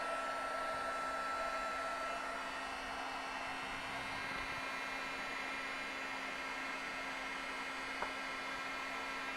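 Embossing heat tool blowing hot air over embossing material while crafting, giving a steady, continuous whooshing hum at moderate level with no talk over it.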